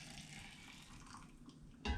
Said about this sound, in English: I'm going to pour it in here with the leftover ginger juice